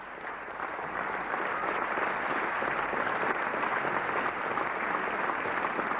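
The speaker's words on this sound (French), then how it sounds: "Sébastien Muff est dans cette salle, je crois que c'est un garçon. Leblanc, on va l'applaudir." Audience in a hall applauding swimmer Sébastien Muff, a sustained, even burst of clapping from a sizable crowd that fills the whole stretch without any talk over it.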